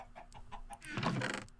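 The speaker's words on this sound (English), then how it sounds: "I hear you, chickens. I hear you." Chickens cluck in a Minecraft FTB modpack game, a string of short soft clucks followed by a fuller, louder squawk, faint and without speech.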